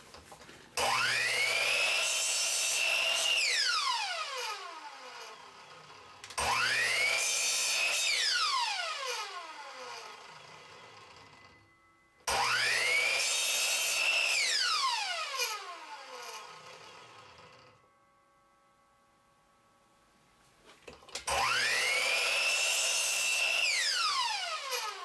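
Hand saw cutting a wooden block into small fire starter pieces, four loud bursts of rasping strokes, each starting sharply and fading, with pauses between, close up and no talking.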